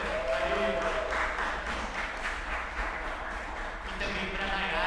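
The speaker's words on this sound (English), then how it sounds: "I want to call a round of applause to Georgia." Applause from a seminar audience for the event production team, fairly faint, even clapping under a voice that keeps speaking over it.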